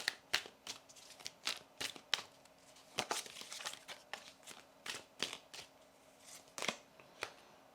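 Tarot cards being shuffled and drawn by hand, a soft sequence of quick papery flicks and snaps with small pauses between them, quiet and close, with no talking.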